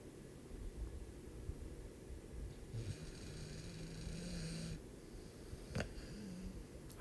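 A chocolate Labrador dog snores softly in a quiet room, a faint low rumbling breath with a brief wheezy hiss midway, under a steady hiss of background noise.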